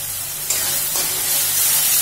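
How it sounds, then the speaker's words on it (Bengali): Meat masala spice paste frying in a pan, a steady broadband sizzle and hiss that thickens slightly halfway through, close and continuous with no talking. "একটু ভাজবো মশলাটা, তাহলে হয়ে যাবে।"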